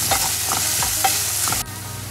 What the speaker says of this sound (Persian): حالا پیازامون رو تفت میدیم که بعدا بهش گوشتمون رو اضافه بکنیم